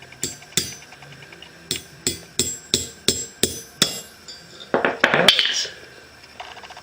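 A bent push rod from a Kohler CV20S engine on a Craftsman mower is hammered straight. About a dozen sharp metallic blows land in a steady rhythm, followed by a brief burst of clattering metal, with no speech.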